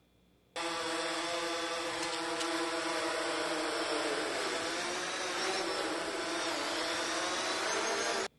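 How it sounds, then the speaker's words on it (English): Drone hovering while lifting a trash bag: a loud, steady high-pitched buzzing whine that starts abruptly, holds with slight pitch wavering, then cuts off, heard alone and close. "This must be a very capable drone."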